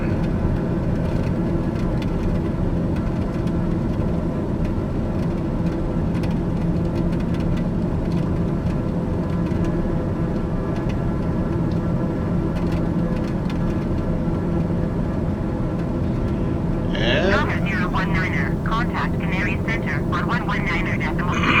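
Airliner climbing after takeoff in Microsoft Flight Simulator 2020, a steady loud engine drone throughout with a pilot voice talking over it and a tonal burst near the end.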